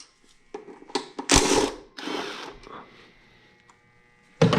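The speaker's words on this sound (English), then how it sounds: "I'm using an impact because impact makes it a lot quicker" Bursts from an impact wrench loosening 8mm bolts on a New Edge Mustang throttle body, a couple of short rattling hammering runs close up with small clicks between them and a fresh burst at the end.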